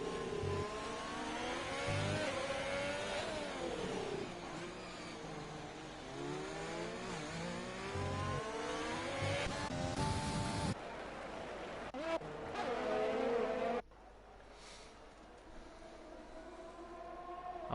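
Race car engines scream through a racing video game at the Mexico circuit, revving up and down through gear changes as cars pass, loud and continuous, with a commentator talking over them.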